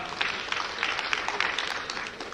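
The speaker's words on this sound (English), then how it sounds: "A round of applause while she goes up." At the launch of a Kenyan national commission's strategic plan, an audience claps in steady, dense applause that stays loud and even throughout, with no voices over it.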